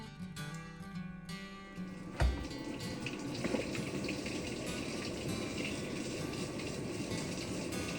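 A washing machine fills with water on its hottest setting, first a low mechanical hum and click, then a steady rushing, splashing flow of water pouring in, fairly faint and continuous.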